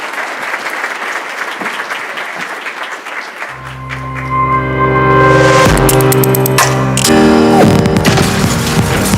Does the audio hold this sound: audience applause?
yes